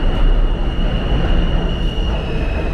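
A northbound R subway train rumbles loudly at the City Hall station platform in Manhattan, a dense steady roar with a high sustained whine running throughout, close and continuous.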